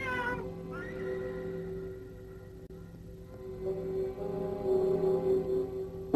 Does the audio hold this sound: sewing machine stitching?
no